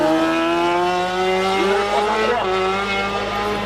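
A race car at a hill climb holds a loud, close, steady engine note that climbs in pitch as it pulls away, with no voices over it.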